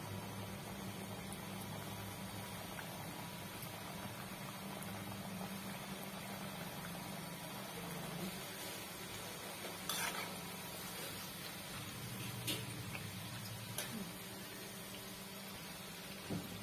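Kapnya and tikhat puri frying in hot oil over a low flame, a steady broadband sizzle with faint bubbling, continuous and close throughout with a few brief clicks.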